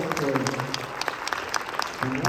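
An audience applauds after a Choctaw social dance performance, with brisk, uneven clapping close by and a voice heard over it.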